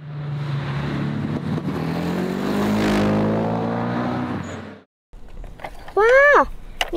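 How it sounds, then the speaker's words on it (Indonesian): A green race car drives past with a rising engine note that swells to a peak and fades, followed by a brief gap and then a high excited voice. "Wow, ada mobil balap warna hijau."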